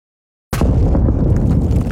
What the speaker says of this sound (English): Then the explosion came.